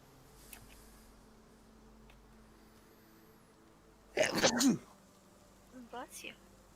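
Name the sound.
sneeze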